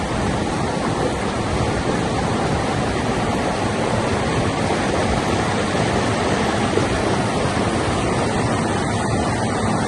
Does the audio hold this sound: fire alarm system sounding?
no